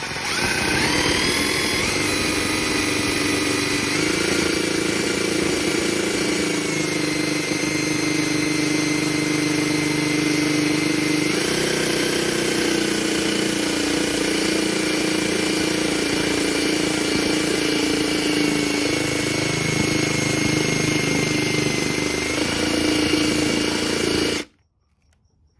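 An electric drill fitted with a makeshift cleaning attachment spins continuously on a 1984 Mercedes 380SL R107 air filter housing, a loud steady whine with slight pitch shifts that runs for over twenty seconds before stopping suddenly.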